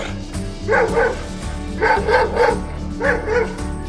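A leash-reactive dog barks in three quick bursts of two or three sharp, close barks each, loud and clear over a low background hum.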